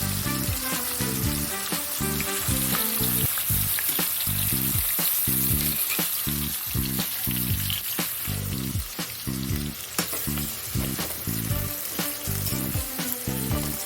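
Chopped medium onions frying in oil for brinjal thokku, a steady loud sizzle with rhythmic stirring scrapes across the pan, no voices.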